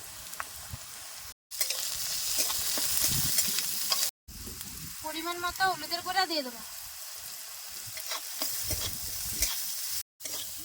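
Constant sizzling of finely chopped onions frying in hot oil with salt and turmeric, with a brief stretch of speech in the middle and stirring clatter throughout.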